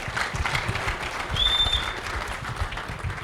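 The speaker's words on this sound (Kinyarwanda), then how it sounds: "Mubaha amashyi menshi cyane Bulldog na Riderman." A studio audience on a talk show claps for the musicians Bulldog and Riderman, a short, fairly soft burst of applause with a faint background tone.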